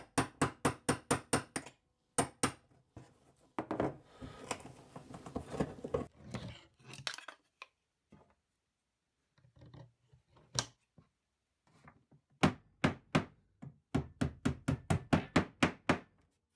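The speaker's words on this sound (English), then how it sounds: "I'll now unbend these next 2 nails here so I can replace them with the proper fasteners" A hammer knocks on bent nails in a vintage steamer trunk, sharp close strikes in quick rhythmic bursts with a quieter stretch of scraping and handling in between.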